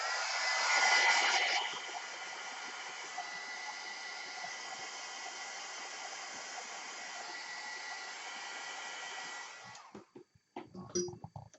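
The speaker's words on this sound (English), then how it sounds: "I'm going to dry that real quick." A dryer blows a steady loud whooshing hiss across a freshly stamped journal page, running for about ten seconds before cutting off, followed by a few close handling clatters.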